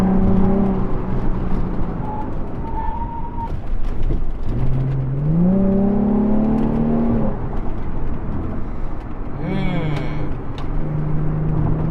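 A Nissan 350Z Cabriolet engine rises and falls through gear changes while driving, a loud steady drone that climbs in pitch, drops, and climbs again, with road and wind rumble throughout and no talk.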